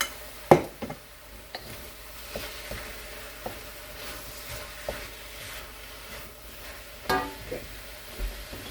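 Onion, carrots and mushroom sizzle softly in a pan, broken by a sharp clack near the start, repeated light stirring scrapes and another knock late on.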